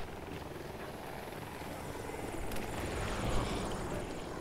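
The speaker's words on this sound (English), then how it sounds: "There's a attack chopper to the left." Attack helicopter in the Battlefield 2042 video game, heard as a steady rotor and engine drone that swells slightly toward the end, fairly close among the game's battle ambience.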